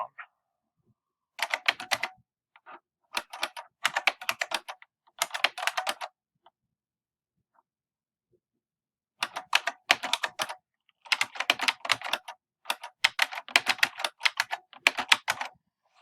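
Rapid clattering keystrokes on a computer keyboard come in several bursts of typing separated by short pauses, close and crisp with no talking.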